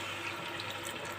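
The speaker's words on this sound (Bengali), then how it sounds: "এবার জল দিয়ে দিচ্ছি পরিমাণ মতো" Water pours steadily from a vessel into a pan of Bengali bhetki fish curry with potato and cauliflower, the spiced vegetables already sautéed; a continuous, even splashing rush sounds close and moderately loud, with no talking.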